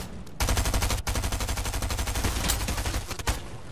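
Rapid automatic gunfire in Fortnite Chapter 3, a loud sustained burst of closely spaced shots running almost unbroken for about three seconds, with one brief gap near the start.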